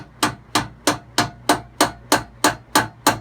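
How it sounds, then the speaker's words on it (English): A hammer taps a carriage bolt out of a Sole treadmill in nine evenly spaced, sharp metallic knocks, close and loud with no voices. "I just tap it out just enough so I got space right here."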